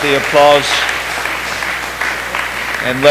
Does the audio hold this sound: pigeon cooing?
no